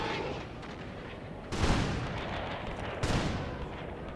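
Musket volleys in an Anglo-Zulu war video game battle at Gingindlovu, two sharp rolling volleys about a second and a half apart over a noisy battlefield background.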